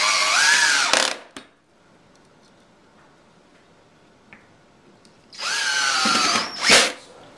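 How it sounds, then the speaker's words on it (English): A power drill drives 3/4 inch screws into center strut brackets on a wall bed frame, two loud sustained whirring bursts of about a second each with a quiet pause between and a brief tick in the gap. "begin securing the center strut brackets with the 3/4 inch screws"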